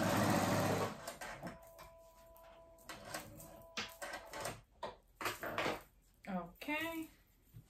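A sewing machine runs in a loud burst at the start, then stops and restarts in shorter runs, with a person talking in between.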